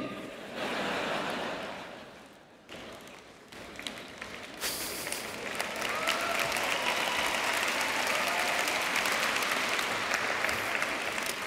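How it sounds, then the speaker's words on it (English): A Stanford Commencement Class Day crowd bursts into applause that swells and then holds as steady, dense clapping for several seconds. "I think it's the parents that are applauding at that one"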